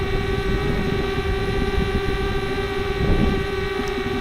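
A DJI Spark drone hovers with a steady high-pitched buzzing whine, close and constant throughout, with no talking.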